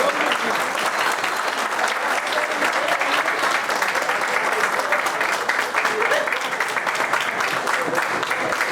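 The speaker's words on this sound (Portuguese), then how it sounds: "E uma salva de palmas para essa equipe." Sustained applause from an assembly crowd honoring a coordinating team at a statutory meeting, dense steady clapping throughout with faint voices mixed in.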